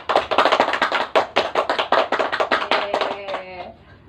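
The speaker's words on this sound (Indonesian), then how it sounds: "Tepuk tangan anak-anak." Children in a classroom clap in a steady rhythmic burst of about twenty loud, even claps that slow and fade at the end. The clapping is close and fills the room.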